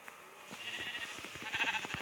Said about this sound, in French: Oh, des moutons.